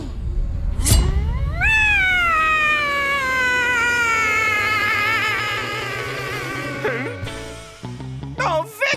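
A cartoon cat gives a long, drawn-out meow where a big cat roar is expected, rising and wavering loudly over several seconds before a few brief scuffling sounds.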